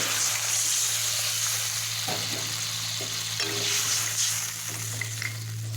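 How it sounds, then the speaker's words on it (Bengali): Fried vegetables, bori and water going into a sizzling pan for a thin Bengali bata fish curry, giving a constant loud frying hiss with a low hum and a few soft knocks and splashes, no talking. "এইবার আমি যে সবজিগুলো ভেজে রেখেছিলাম সেগুলো দিয়ে দেবো সাথে বড়িও দিয়ে দেবো একসাথে দিয়ে দেবো জল"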